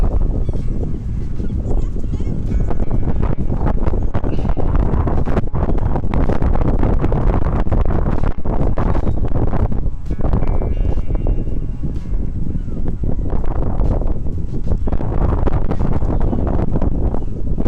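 Strong wind roars and buffets the microphone continuously at Whitby, among moored boats, a heavy, rumbling gusting that swells and eases throughout.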